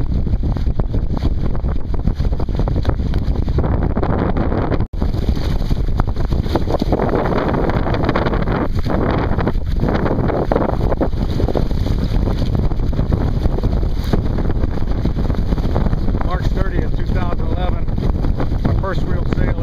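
Sailboat heading upwind out of an island's shelter in a Kruger, with strong wind buffeting the microphone, rushing water along the hull and a voice speaking over the steady roar.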